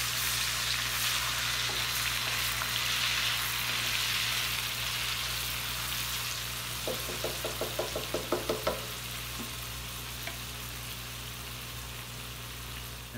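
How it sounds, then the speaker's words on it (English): Garlic frying in hot oil in a pot for beef and bacon chili, a constant bright sizzle with a short run of sharp utensil knocks against the pot partway through, no talking. "And then with the oil still nice and hot, you want to put in some garlic."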